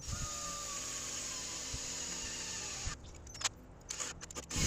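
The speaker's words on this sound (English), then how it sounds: "Drilling the mounting holes for the circuit breakers." A power drill whines steadily while boring mounting holes for circuit breakers during a camper's electrical install, then cuts off with a few clunks and taps of handling afterward.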